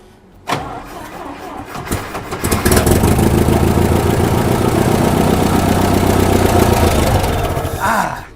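A 1964 International Scout engine, abandoned for 40 years, cranks and catches, then runs steadily and loudly for several seconds on fuel being fed in by hand, ending with a brief surge.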